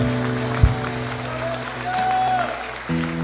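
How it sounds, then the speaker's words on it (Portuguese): A church congregation applauds in steady, dense clapping over sustained musical tones, with a brief thump partway through and the tones shifting near the end. "vamos aplaudir ao Senhor."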